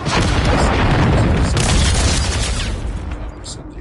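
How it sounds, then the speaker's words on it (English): A cruise missile explosion in Call of Duty MW3 lands as a loud, sustained boom with dense rumbling debris, tapering slightly toward the end, with game audio and gunfire-like bursts mixed in. "Hostiles launched the cruise missile."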